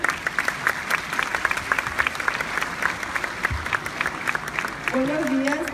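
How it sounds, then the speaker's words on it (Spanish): Applause from a crowd at a school anniversary ceremony, steady clapping filling the room for several seconds, with a voice briefly starting to speak near the end. "un aplauso para recibir a Marian"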